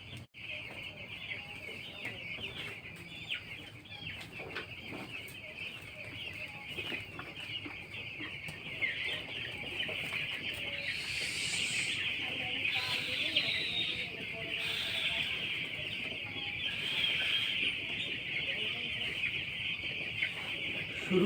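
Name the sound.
poultry chickens clucking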